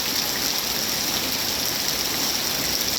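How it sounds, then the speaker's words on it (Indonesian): Afternoon rain pours steadily, a dense, even hiss of falling water that stays constant and close with no breaks or voices. "Dengan turunnya hujan ini setidaknya sudah membuat"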